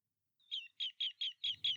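A bird gives a quick series of six short, high, trilling chirps, evenly spaced and clear against silence.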